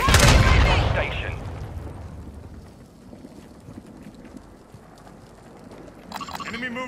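Called-in artillery fire in a video game: a heavy, loud blast rumbles at the opening and slowly fades into wind-like noise, with a brief crackle of further sound near the end.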